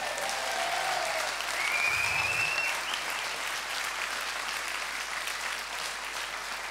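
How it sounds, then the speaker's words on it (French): An audience applauds at a Vendée Globe 2024 press conference for sailor Alan Roura, with sustained even clapping from a sizeable crowd and a brief murmur early on. "Et je pense qu'on peut tous l'applaudir."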